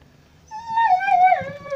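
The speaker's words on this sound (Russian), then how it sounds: "И голодная Нюха, моя собака. Она вечно голодная." A hungry dog outdoors in freezing winter lets out a single drawn-out, rising and wavering whimper, close and fairly loud, over faint background noise.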